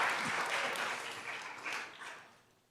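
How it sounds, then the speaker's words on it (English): Applause at a county board of commissioners meeting, a burst of hand clapping from the room that fades out after about two seconds. "I love the applause"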